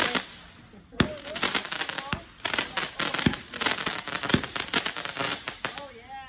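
Fireworks going off outdoors, a dense run of sharp cracks and pops with bursts of crackling, loud and close, with people's voices mixed in between the bangs.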